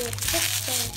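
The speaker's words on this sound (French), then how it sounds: "ouvrons cette sucette pour découvrir ce qu'il y a à l'intérieur" Crinkly plastic wrapper being peeled and crushed off a giant lollipop, a dense continuous rustle with a brief voice underneath, close up.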